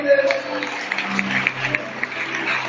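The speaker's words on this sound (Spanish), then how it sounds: "aplauda el pueblo de Dios" A congregation applauds during an evangelical church service in Cunduacán, Tabasco, with quick patters of clapping mixed with voices and a tonal background.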